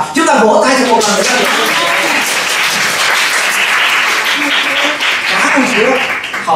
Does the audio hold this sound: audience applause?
yes